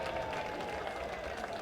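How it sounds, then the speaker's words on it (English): A crowd at a night baseball game applauds, a steady wash of clapping and murmur spread through the stands, heard from a distance. "Nice crowd on hand tonight."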